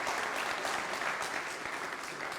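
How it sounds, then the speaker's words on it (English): A banquet audience at a Rotary Club district installation applauds their chair, sustained even clapping from a large room, moderately distant. "Please give her a round of applause."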